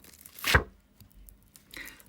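A quick swishing rustle of stiff tarot cards sliding and falling, followed by lighter shuffling scrapes; close and brief.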